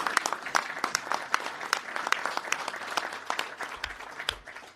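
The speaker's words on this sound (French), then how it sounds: "on peut l'applaudir" Audience at an association's general assembly in a hall gives a round of applause, moderately distant and fairly quiet, with crisp individual claps scattered through a steady patter.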